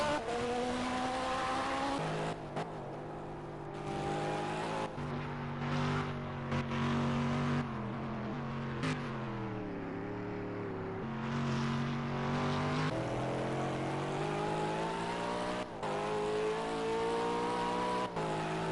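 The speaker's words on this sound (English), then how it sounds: "Sad Shooter going past the pits" Race cars in a PS4 racing game: steady, layered engine whines that rise and fall in pitch as several cars pass, continuous and fairly loud with no talking.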